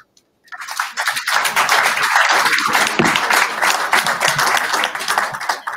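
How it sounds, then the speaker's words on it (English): Audience applause at a public health celebration in Africa marking ten years of stewardship, starting after a brief silence and holding steady as moderate, even clapping from a crowd. "that applause is a little bit weak"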